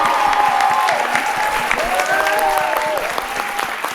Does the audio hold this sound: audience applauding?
yes